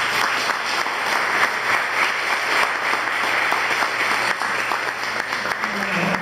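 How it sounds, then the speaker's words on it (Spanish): Audience at a diploma ceremony for a green chemistry program applauds teachers with a sustained, even wash of many hands clapping throughout. "yo les pido un gran aplauso"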